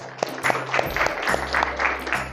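Classroom applause for a student group after their presentation in a teacher training session, a steady patter of clapping running a couple of seconds at moderate loudness.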